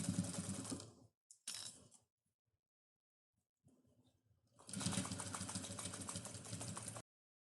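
A sewing machine stitches in short bursts with pauses between them, ending in a longer steady run. The motor gives a close, moderately loud mechanical whirr and rapid needle chatter, and no one speaks.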